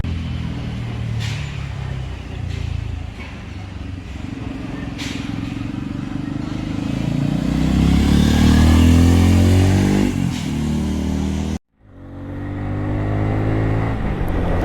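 A Bajaj Pulsar 250N engine revs hard while riding, a loud continuous roar that climbs in pitch, drops off abruptly for an instant, then picks up again, with wind rush and a voice talking over it.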